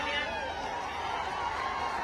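A large crowd at a stage show in Hyderabad keeps up a steady roar of clapping and cheering, loud and continuous throughout, with chatter blended in.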